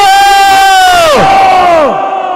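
A crowd at a lottery draw during a small and cottage industries fair in Kholahati lets out a loud, sustained cheer, its rising and falling shouts filling the whole moment.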